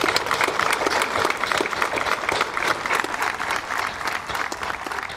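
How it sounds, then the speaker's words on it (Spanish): Sustained, dense applause from a crowd honoring pilgrims on a pilgrimage to Villa Santa Rosa for the Día de Santa Rosa, with many hands clapping steadily and loudly throughout. "Un fuerte aplauso para ellos."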